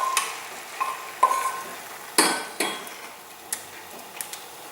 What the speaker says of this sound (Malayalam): ഇനി മിക്സ് ചെയ്ത് വെച്ച ഈ കൂട്ട് നമുക്കിതിലേക്ക് ഒഴിച്ചു കൊടുക്കാം.